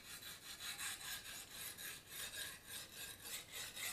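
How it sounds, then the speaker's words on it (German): A knife blade is drawn back and forth across the stone of a Lansky guided sharpening system, making a steady, rhythmic rasping scrape, about three strokes per second, close and fairly quiet, with no talking. "Also würde man das jetzt von der anderen Seite noch ein bisschen schleifen."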